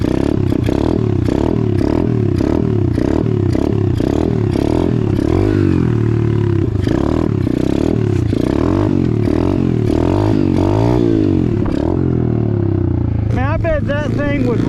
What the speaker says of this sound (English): Keeps on backfiring through the carburetor.